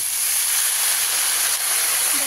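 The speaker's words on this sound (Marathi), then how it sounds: "आता आपण त्या धुतलेली मेथीची भाजी टाकून घेऊया." Washed fenugreek leaves go into a hot pan where reddish browned ingredients are already frying, setting off a loud, dense, continuous sizzling hiss close up.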